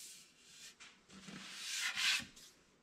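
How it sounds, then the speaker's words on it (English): Sandpaper rubbing across wooden dovetail drawer joints at 100 grit, a steady scratchy friction that swells in a few strokes and is loudest near the end, with no voices. "I don't think there's anything more satisfying than sanding dovetail joints."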